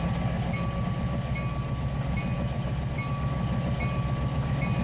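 A train shunts in the simulator game Trainz 2019, with a steady low engine rumble, rhythmic clickety-clack wheel beats repeating about every second, and a faint high tone, without talking.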